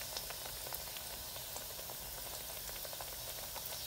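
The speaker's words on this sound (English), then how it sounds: "Got 4 in there deep frying." Steady crackling sizzle of battered dove pieces deep frying in hot oil, a constant dense bubbling hiss with small pops throughout.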